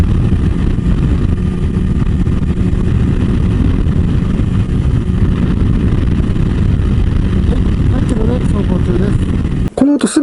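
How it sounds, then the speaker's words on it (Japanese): Loud, steady roaring wind buffeting around the neck and shoulders inside a SHOEI X-14 full-face helmet on a motorcycle cruising at 100 km/h, a dense continuous rush that ends in a brief handling thump. "X14 はねちょっと首とか肩周りから発生する巻き込み風の音がね非常に大きいんですよね"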